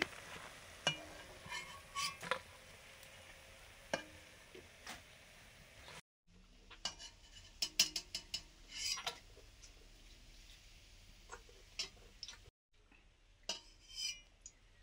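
Water lily fritters fry in a pan with a soft, steady sizzle, broken by scraping and clinking of a spatula as pieces are turned and lifted, close and quiet.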